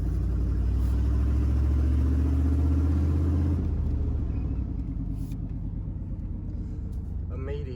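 A car engine runs after an EGR valve replacement with a steady, close, low rumble that drops to a quieter idle partway through.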